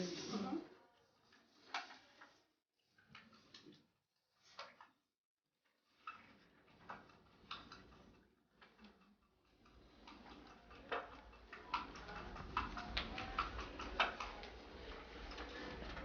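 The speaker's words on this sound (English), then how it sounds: "The next step is just whisking." Pie filling with vinegar whisked in a bowl for a Maine blueberry pie, with close, rapid clicking strokes in short bursts and pauses, then a continuous run of beats in the second half, with voices at times.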